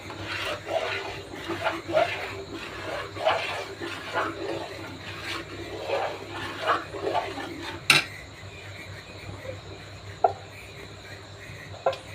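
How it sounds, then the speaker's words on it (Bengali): A spoon stirs mango into boiled rice in a pot, making soft repeated scrapes and wet knocks in an uneven rhythm over a steady low background hum, with one sharper clank partway through. "ভেতরে চালটা ফুটে গেছে, এর ভেতরে আমি আমটা মিশিয়ে দেব।"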